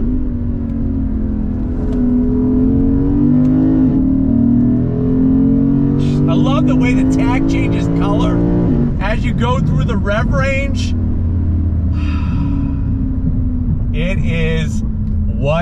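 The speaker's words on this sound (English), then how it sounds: "Nice to have this naturally aspirated V8 power." The naturally aspirated V8 of a 2022 Lexus IS 500 sport sedan pulls hard from inside the cabin, its loud steady drone climbing in pitch through gears, while someone talks over it.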